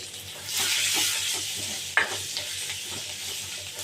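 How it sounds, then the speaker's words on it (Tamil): Fenugreek seeds and asafoetida sautéing in hot oil for pumpkin idli sambar, a steady close sizzle with a sharp stirring scrape midway. "இப்போ இதை வதக்கி விட்டுக்கலாம்."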